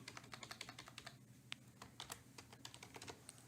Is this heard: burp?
no